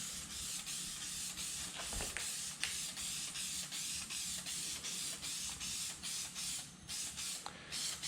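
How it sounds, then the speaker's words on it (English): Adhesive sprays onto a cardboard panel in short repeated hissing bursts, close and fairly quiet, with brief pauses between passes and no talk. "So we'll get this guy all sprayed up, wait for it to tack a little, and then we roll it on and repeat the process till we're at the end."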